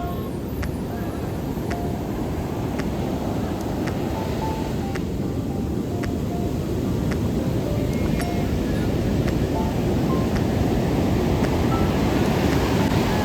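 Tall ocean waves break on the seashore in a steady, broad roar that swells slightly toward the end, with wind buffeting the microphone.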